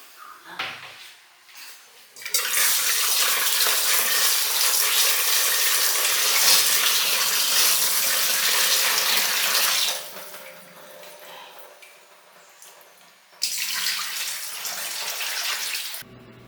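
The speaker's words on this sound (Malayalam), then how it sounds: "ആദ്യം കഴുകിയേക്കാം" A kitchen tap runs while raw chicken is washed, a loud steady gush that stops and then starts again after a quieter stretch with handling noises.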